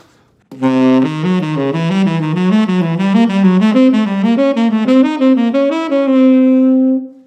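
A sustained wind instrument, likely a saxophone, plays a rapid ascending and descending line of triads built from each degree of the half-whole diminished scale, smooth and continuous, ending on a held note, with no talking.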